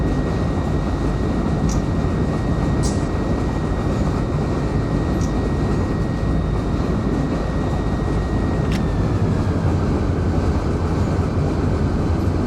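Union Pacific train running in Run 8 Train Simulator, a short train giving a loud, steady rumbling roar with a sustained tonal whine, a few faint clanks, and no talking.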